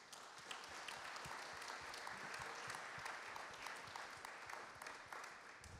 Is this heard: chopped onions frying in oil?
no